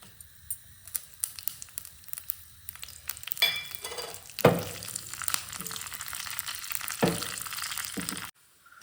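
Mustard seeds, dried chillies and curry leaves hit hot coconut oil. Quiet spatters and pops build into a crackling sizzle with sharp bursts, then cut off abruptly.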